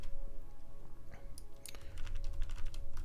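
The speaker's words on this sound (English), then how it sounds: "my keyboard sounds aren't too loud" Someone types quickly on a computer keyboard, a close run of light clicks and taps. The clattering gets busier in the second half, with no talking.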